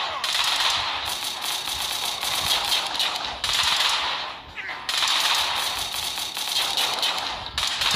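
Heavy weapons firing on killer robots in Fallout Shelter, loud rapid automatic bursts that run in long stretches with a brief pause midway, close and dense, with no speech over them.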